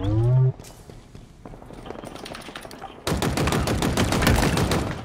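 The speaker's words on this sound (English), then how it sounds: "I'm getting shot through the wall." Fast automatic gunfire in a Halo match, rapid steady bursts that grow louder and denser in the second half, close and prominent, following a brief voiced sound at the start.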